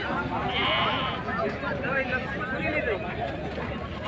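A goat bleats at a busy Sindhi cattle market during Qurbani season, a loud nearby call rising over dense crowd chatter and constant background noise.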